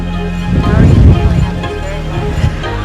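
Gusty wind buffets the microphone with low rumbling roars, swelling and easing, a steady outdoor blustery noise in rainy weather in the Blue Ridge Mountains.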